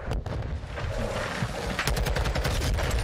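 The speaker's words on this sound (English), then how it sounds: "I was shooting two different guys." Rapid automatic gunfire from Call of Duty Modern Warfare II ranked multiplayer, dense bursts of shots with a couple of sharp louder cracks near the end, loud and continuous with no talking.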